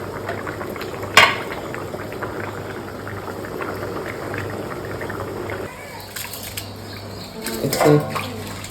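Fish curry bubbles in a pot with water added, a steady simmering burble close by, with a clink of utensil against metal early on and a louder clatter and splash near the end.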